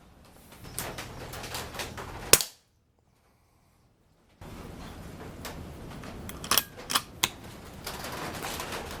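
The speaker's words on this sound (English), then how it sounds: "We'll shoot them and see which ones we think work best." Firebird Airflash reactive targets are hit by shots in a sharp series of cracks. A lone crack is followed by silence, then several quick snapping reports in close succession over faint background noise.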